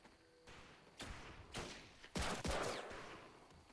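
Several sharp gunshot bursts in quick succession in the video game Medal of Honor Pacific Assault, the last two loudest and closest, with quiet gaps between the first few shots.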